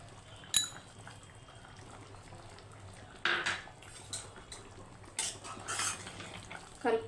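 A spoon stirs mutton boti curry in a pot, quiet scraping and clinking against metal in intermittent strokes with a low steady hum behind, no voices.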